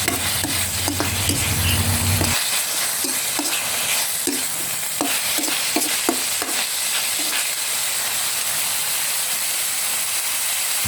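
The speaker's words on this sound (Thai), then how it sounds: "ผัดจนหมูสับสุกได้ที่ก็ใส่ ผักพีกาที่เราไปทอด มาแล้วครับ ผัดคลุกเข้าให้เข้ากันครับ" Minced pork and fried pheka vegetables stir-fry in a hot pan, a loud, hissing sizzle with regular scraping and tapping of the spatula against the pan.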